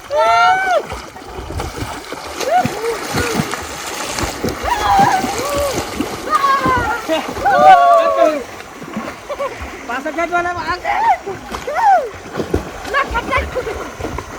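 Water splashes and sloshes around a small boat throughout, mixed with people talking and calling out close by.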